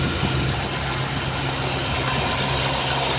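With nobody at the controls, a tractor's engine keeps running in a steady low throbbing rumble, close by and constant throughout, no talk over it.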